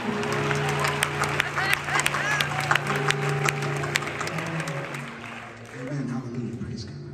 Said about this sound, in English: One more time, just clap your hands unto the Lord.